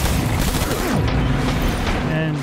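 Rapid gunfire emptying a whole magazine in Death Stranding, loud repeated shots in quick succession over busy game sound.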